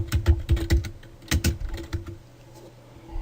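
Quick bursts of keystrokes on a computer keyboard, clustered taps close and crisp, pausing briefly between runs before trailing off.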